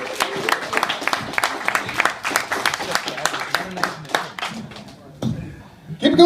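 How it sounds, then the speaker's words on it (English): Audience applause for a comedian at a comedy show, dense close clapping and crowd noise that fades out after about five seconds, followed by a brief voice as the act takes the stage. "Round of applause."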